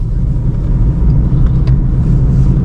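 A car's engine holds third gear while moving with city traffic, a steady low rumble that drones on without a break, fairly loud throughout.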